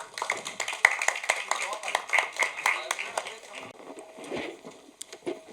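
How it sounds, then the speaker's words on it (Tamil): Modest applause from an indoor audience at a film event welcoming a guest, a few sharp individual claps over a soft patter that fades out within seconds. "ஒரு கைத்தட்டலோட லெட்ஸ் வெல்கம் ஆதித்யா கதிர்."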